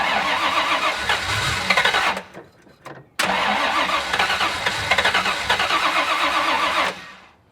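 A 1979 Chevrolet Camaro's engine cranks repeatedly without catching, a grinding churn that stops briefly, then resumes for several more seconds before cutting off.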